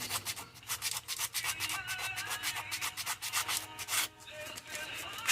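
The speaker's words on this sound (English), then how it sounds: "you just sand until you see that you got it pretty straight" Sanding a wooden glide bait by hand, a steady back-and-forth rubbing scrape repeating in quick strokes, close up, with background music underneath.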